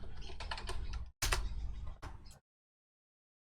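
Someone types on a computer keyboard nearby in a quick run of crisp key clicks, with one louder clack. The typing stops abruptly, and silence follows.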